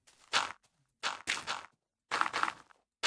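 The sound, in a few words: footsteps in the video game Minecraft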